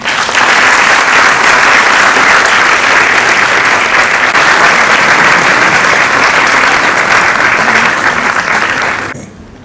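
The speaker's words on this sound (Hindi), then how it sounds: "इनके लिए ज़ोरदार ताली बजा दी है" Loud, dense audience applause fills a press event for a Mohammed Rafi tribute show, sustained and steady for about nine seconds before cutting off abruptly at the end, with no talk over it.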